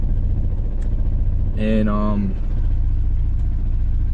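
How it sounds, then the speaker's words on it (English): A Honda B20 VTEC engine idles unusually low with a steady, deep rumble, while a voice speaks briefly partway through. "it has been idling crazy low"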